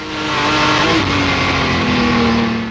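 A Jaguar D-Type race car at full throttle on a circuit, its engine a loud, continuous roar with a steady rising tone, close and unbroken for the whole stretch.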